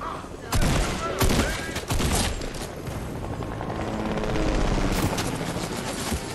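Dense bursts of gunfire crackle through a tense final battle in an online shooter game, with rapid overlapping shots and booming impacts filling the whole stretch, loud and close.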